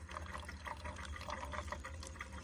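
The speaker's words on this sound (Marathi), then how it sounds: "आता थोडा वेळ लागेल पाणी भरेपर्यंत" Tap water runs into bottles at an outdoor spot before a cricket game, a faint steady trickle and pour with rising gurgles, heard quietly and without speech.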